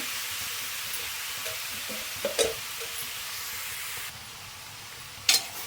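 Onion and garlic frying in a pan for homemade momo filling, a steady soft sizzle with a couple of brief sharper crackles and clatters over it.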